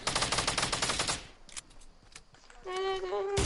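A rapid burst of automatic gunfire in Fortnite for about a second, followed by scattered clicks and a sustained electronic tone.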